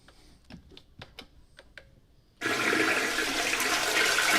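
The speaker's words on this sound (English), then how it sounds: "Oh, the water's still coming in. I can hear it." A toilet refilling after a flush: a loud, steady rush of water begins abruptly partway through and continues without letup, after a stretch of faint scattered clicks and ticks.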